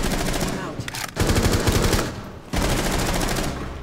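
Rapid automatic gunfire in the tactical shooter Rainbow Six Siege rattles in dense, loud bursts separated by brief pauses, close and harsh.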